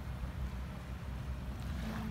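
Low rumbling surf with wind noise buffeting the microphone, a continuous wash of sea waves close by at a Batangas beach resort, with no voices.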